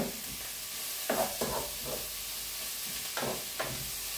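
Onion frying in a pan for pork and apple sausage rolls gives a steady soft sizzle, broken by a few louder scraping stirs, with no talking.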